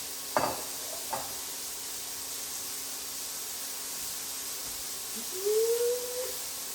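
Chicken pieces sizzle faintly in a pan while being turned, with two brief clatters near the start and a soft rising whine near the end against a steady frying hiss.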